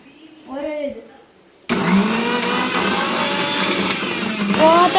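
A kitchen mixer grinder switches on abruptly and runs with a loud, steady whirring roar, rising slightly near the end; a voice is heard briefly just before it starts.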